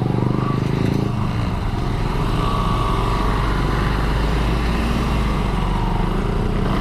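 A motorcycle engine runs loud and steady up close, the buzzing drone holding throughout as the bike pulls onto a highway, with a faint shift in pitch early on.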